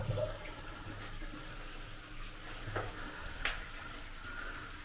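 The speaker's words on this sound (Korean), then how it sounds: "괜찮다 싶으면 이제 배수를 한번 해줍니다" Water draining through a newly installed washbasin pop-up drain, a steady rushing gurgle with a couple of brief clinks, close by with no talking.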